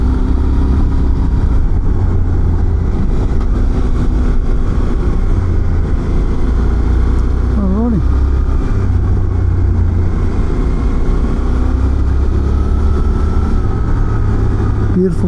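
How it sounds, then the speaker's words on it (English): A Suzuki V-Strom 800DE motorcycle rides along a coastal road with dirt and corners, its steady engine drone and road rumble loud and continuous, with a brief pitch rise partway through. "Just trying to get used to the bike while it's unloaded."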